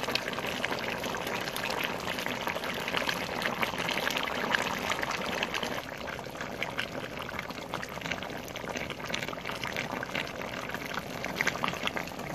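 Liquid bubbling steadily while cooking chicken back, a continuous dense bubbling and sputtering that stays fairly loud and close throughout, with no voices over it.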